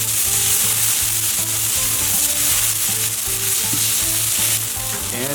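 Burger balls fry on a griddle, producing a loud, dense, continuous sizzle up close, with occasional scraping and no talking.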